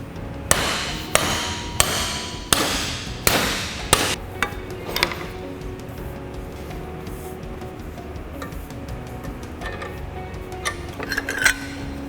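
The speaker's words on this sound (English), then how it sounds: "We're going to fold it in half in the vise and see if our welds will perform." A welded thin-metal steel coupon is bent over in a vise, with a run of sharp metallic hammer strikes at first, then quieter clinks and scraping as the metal folds, ending with a few more taps, close and echoing.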